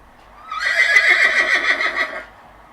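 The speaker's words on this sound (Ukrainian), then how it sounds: "It's a horse." A horse lets out one loud, close whinny lasting nearly two seconds, rising and then trembling downward through a quavering series of pulses before fading out.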